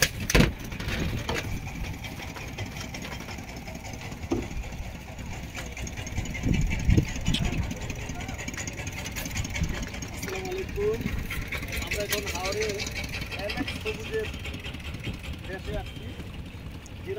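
A trawler's engine drones steadily throughout a ride across the Mithamoin haor in Bangladesh, a constant mid-pitched rumble with splashing water and people talking over it.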